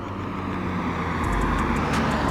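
A passing car on a road approaches and slows, its broadband engine and tyre noise building steadily to a close, loud rumble, with a few faint high squeaks near the end and no talking.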